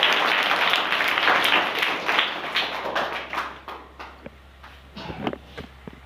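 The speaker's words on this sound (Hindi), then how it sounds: "राइट आंसर के लिए ताली हो जाए।" A classroom of school pupils claps for a correct answer in a general knowledge quiz, a loud burst of many hands that thins into scattered taps and fades over several seconds.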